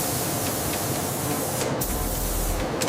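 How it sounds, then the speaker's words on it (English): Automated spray painting system applying base colors to toys in a factory, a steady, loud, continuous hiss of spray with no pauses and brief brighter bursts near the end. "Automated painting systems apply base colors evenly, giving each toy its vibrant appearance."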